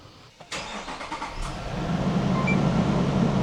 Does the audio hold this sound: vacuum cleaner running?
no